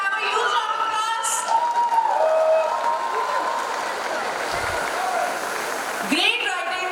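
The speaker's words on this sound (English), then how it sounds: "Can I have a huge round of applause?" A large audience at a literary conversation event applauds and cheers, a broad steady roar of clapping with whistles and raised voices mixed in, continuing at even loudness throughout.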